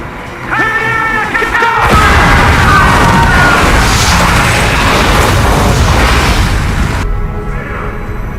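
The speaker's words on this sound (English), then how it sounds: "Heard the explosion." A loud, sudden explosion in the TV series The Night Agent erupts after a few seconds of voices, then a long roaring wash of debris and rumble that cuts off abruptly.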